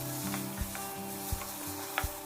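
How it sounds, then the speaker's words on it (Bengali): Chopped tomatoes and shelled peas frying in spice paste, a close, steady sizzle with several sharp scraping stirs against the pan and a low hum underneath. "এর মধ্যে দিয়ে দেব দুটো মাঝারি সাইজের টমেটো কুচি, 1 কাপ ছাড়ানো মটরশুঁটি। সমস্ত কিছুকে খুব ভালোভাবে নেড়ে চেড়ে নেব।"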